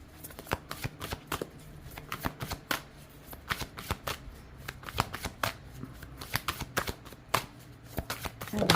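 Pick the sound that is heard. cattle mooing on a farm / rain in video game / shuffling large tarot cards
shuffling large tarot cards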